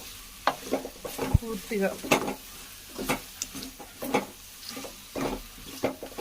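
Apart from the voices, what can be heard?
boiled chicken added to pan and stirred for curry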